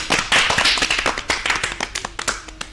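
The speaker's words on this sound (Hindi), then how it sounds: "इनके लिए एक जोरदार तालियां तो बनती हैं।" An audience applauds a student's poem at a school television programme, a short loud burst of hand clapping that thins into scattered claps before fading.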